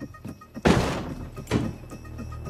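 A hotel room door thunks and bumps as it is opened, two solid knocks or thuds about a second apart amid quiet room sound.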